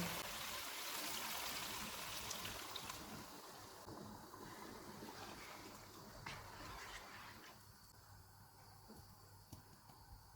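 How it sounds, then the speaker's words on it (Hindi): Two cups of water poured into a pot of browned mutton with 500 grams of pumpkin, a steady splashing trickle that fades gradually, with no talk. "2 कप पानी डालेंगे।"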